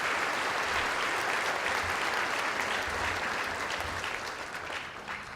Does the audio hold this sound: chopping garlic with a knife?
no